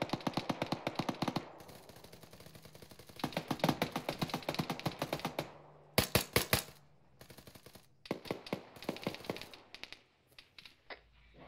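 Bursts of automatic gunfire in PUBG aimed at a vehicle gunner, rapid rattling volleys with short pauses between them, some shots close and sharp, others a little farther off.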